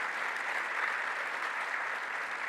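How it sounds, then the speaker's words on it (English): An audience at a governor's award announcement gives officials a round of applause, a steady, even wash of clapping from a crowd with no voices over it. "Let's give them a round of applause."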